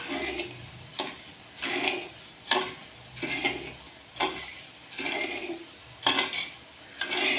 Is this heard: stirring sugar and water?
yes